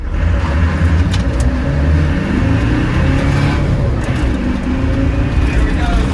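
A Land Rover Defender diesel accelerates hard from a standing start with wheel spin, its loud engine roaring close and steady throughout the clip, with no speech.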